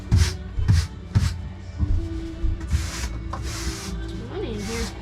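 Dusting inside the nooks and crannies of a 4x8 camper, heard as repeated close brushing and rubbing strokes in bursts, with voices talking underneath.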